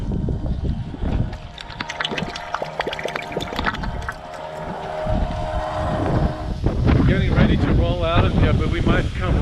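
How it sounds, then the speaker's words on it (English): Strong wind in Baja buffets the microphone with loud, rumbling gusts and rushing noise, while people talk through it nearby. "we might come right back because it's extremely windy"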